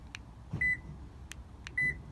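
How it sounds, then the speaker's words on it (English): Two short electronic beeps from a Start-X remote starter in a 2019 Toyota Tundra, evenly spaced about a second apart, with faint clicks around them in a quiet setting. "Hear that beep?"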